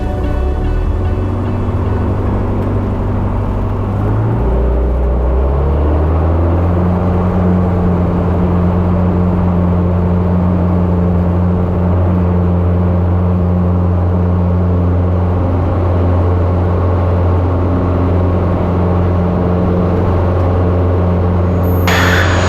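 A small single-engine airplane on a fuel run to Front Royal roars steadily as it takes off, with the engine's pitch stepping up early and then holding a loud, constant drone heard from inside the cabin.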